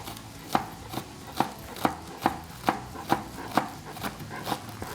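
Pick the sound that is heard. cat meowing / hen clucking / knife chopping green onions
knife chopping green onions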